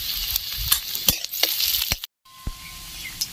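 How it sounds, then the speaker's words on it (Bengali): Onion, bay leaf, black cumin and cumin sizzle in hot oil in a pan, with a steady hiss and sharp clinks of a utensil stirring, briefly cut by a moment of silence. "পেঁয়াজ ভাজা হয়ে গেছে"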